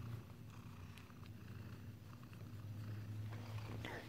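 A domestic cat purrs in a steady, continuous low rumble, close and quiet, with no other sounds over it.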